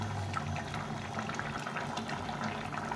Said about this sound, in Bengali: ভালো করে একটু ফুটিয়ে নিতে হবে মাছগুলোকে